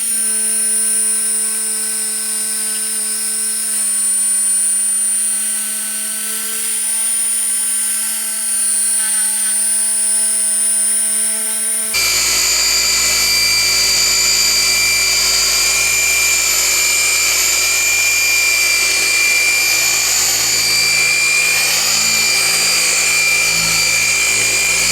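A car paint polisher works on a 2003 Honda CR-V, whirring steadily, then jumps to a higher speed halfway through with a louder, brighter, harsher whine that holds to the end, with no voices.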